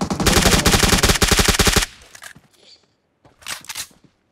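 Rapid automatic gunfire in the PUBG Mobile video game, a loud dense burst of shots for almost two seconds, then quiet with a short later flurry of sharp sounds.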